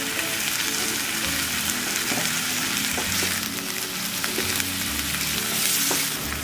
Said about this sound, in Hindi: अब इसको इसका पानी पूरा निकले तक पका लेंगे